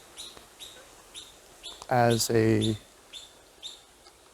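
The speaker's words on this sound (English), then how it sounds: "Isn't that bird beautiful?" A songbird gives short, bright repeated chirps at a moderate distance, broken midway by a louder, fuller call before the faint chirping resumes.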